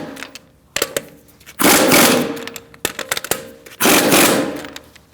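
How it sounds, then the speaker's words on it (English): Two long bursts of a pneumatic impact wrench snugging the wheel lug bolts on a 2008-2014 Mercedes-Benz C300 with a 17mm socket, close and loud, separated by short clanks of handling. "We're going to do that in a star-like pattern using a 17mm socket."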